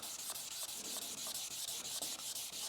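A car headlight lens is sanded by hand, giving a close, steady, loud abrasive rasp in quick, even back-and-forth strokes that repeat throughout, with no voices.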